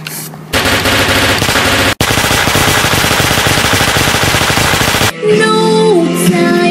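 Rapid machine-gun gunfire in loud, dense continuous bursts that cut out briefly near two seconds, then give way to a sustained tonal sound for the final stretch.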